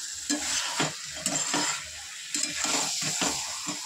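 Egg and potato curry sautéing in a pan, a close sizzle with quick, uneven spatula strokes scraping and stirring throughout, and no talking.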